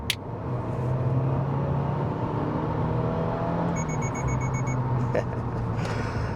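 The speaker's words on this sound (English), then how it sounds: "Here's a little acceleration. If I just floor it here," A Subaru WRX GT car engine at full throttle, a steady loud drone that holds throughout with a brief electronic beeping tone partway through.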